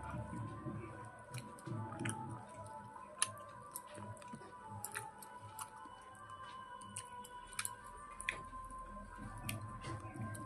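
Close, quiet chewing of chicken, with soft wet squishes and small bites repeating steadily at a calm pace and occasional sharp clicks over a low background hum.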